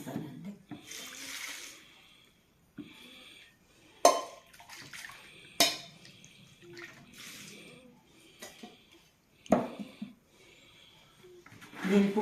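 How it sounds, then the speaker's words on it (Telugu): Water poured into a bowl with buttermilk and turmeric for making vadiyalu, irregular splashing and sloshing bursts with knocks of the container between quieter gaps, and some talk in the background. "ఇంకా కొద్దిగా నీళ్ళు కూడా కలిపేస్తానండి."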